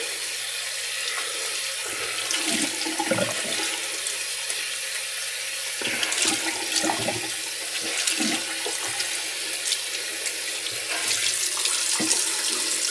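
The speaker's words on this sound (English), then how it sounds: "Let the hot water rinse." Hot water runs steadily from a tap into a sink for a shaving rinse, a continuous broadband rush with splashing changes as hands or a brush move under the stream, close and alone.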